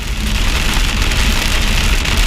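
Heavy storm rain beats on a car windscreen, a dense, loud and unbroken hiss and patter heard from inside the vehicle, with a faint low engine rumble beneath.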